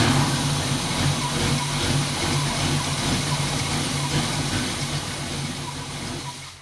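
Chevy 454 big-block V8 fitted with 305 small-block heads, running at a steady rumbling idle with a faint lope, loud and close, easing off slightly near the end, with no voices.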